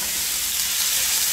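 Sliced onions dropped into a hot pan of grapeseed oil over medium heat give a close, steady, dense sizzle with no break and no talk.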